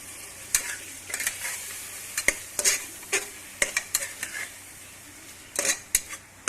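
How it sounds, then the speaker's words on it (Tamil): A spoon stirs yogurt into biryani in a pot, making a run of sharp scrapes and clinks against the metal in uneven bursts, close and fairly loud, with no voices. "நல்லா கிளறி விட்டுக்கலாம்."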